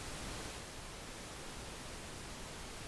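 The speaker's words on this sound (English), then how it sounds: "Now I have pink noise being inputted into my DN4888, so I can go ahead and just turn this up and we can hear it." Pink noise fed into a Midas DN4888 stage box makes a steady, even hiss that holds unchanged throughout, fairly quiet and with nothing else heard.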